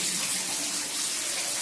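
Shallow underground river in a cave, running low today, flowing with a steady broadband rush and splash that fills the space evenly, close by, with no voices.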